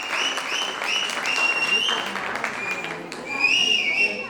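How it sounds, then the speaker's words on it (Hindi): Guests at a sangeet night wedding celebration applaud steadily while someone blows repeated shrill whistles over the clapping, with cheering voices mixed in. "आप सबकी तालियों की गड़गड़ाहट एक तरफ और बलराज की सीटी एक तरफ"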